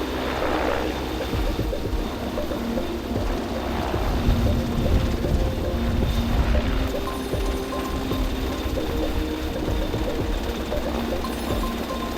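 Canadian rescue helicopter landing in the Reykjanes mountain range during a wilderness rescue exercise: a constant, loud, dense roar of rotor and engine with wind noise, continuing without pause and with no voices.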